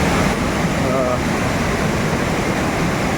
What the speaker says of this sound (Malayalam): ഇതാണ് അനൂര് വെള്ളച്ചാട്ടം